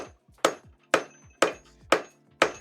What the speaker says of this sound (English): Some really heavy hammer blows to stretch it out.